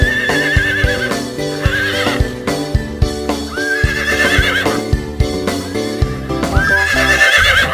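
A horse whinnies repeatedly in loud, close, wavering neighs, with rhythmic clip-clop hoofbeats running steadily underneath.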